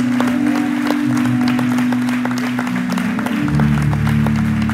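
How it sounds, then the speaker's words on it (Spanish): Applause from a church congregation, a steady wash of clapping that goes on under loud sustained music or organ tones, fairly close and continuous throughout. "Denle un fuerte aplauso al Señor."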